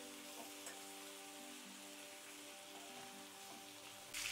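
Green chillies sauté in a pan for a tangy tamarind chilli dish, giving a faint, even sizzle like light rain that holds steady. Near the end a brief louder burst of hiss comes in.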